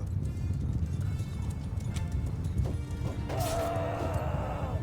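Mount & Blade II Bannerlord cavalry gallops in a continuous, dense drumming of hooves, joined near the end by a brief, higher whinny-like tone and a clattering crash over the steady hoofbeats.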